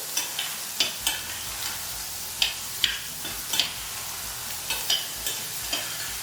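Pork chops sizzle in a pan with a constant frying hiss, punctuated by regular sharp taps and scrapes of a utensil, heard up close with no speech.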